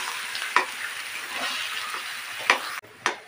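Boiled potatoes and fresh coriander get stirred in a hot pan for street-style ulta vada pav, a soft sizzle running throughout with a few distinct scraping strokes of the spoon.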